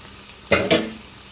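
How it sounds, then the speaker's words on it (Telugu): Chopped tomato pieces dropped into a pan of cooking capsicum, two quick close clattering plops with a brief sizzle, then a soft frying hiss. "ఇలా ఉడికిన తర్వాతకి మనం కట్ చేసి పెట్టుకున్న టమాటో ముక్కలు ఉన్నాయి కదా అవి వేసేసుకుందాం"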